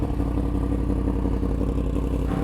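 A superbike engine droning steadily while riding, a close, low rumble with a rapid pulsing rhythm and some wind noise.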